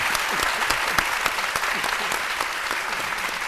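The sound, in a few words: audience applause for Magnific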